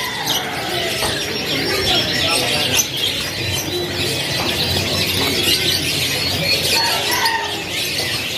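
Caged canaries and other birds at a bird market chirp and call continuously, a dense busy chorus of close tweets and cooing with faint background voices.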